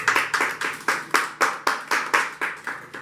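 A church congregation claps in steady unison rhythm at a French Sunday worship service, about a dozen crisp, evenly spaced claps filling the room with no voices over them.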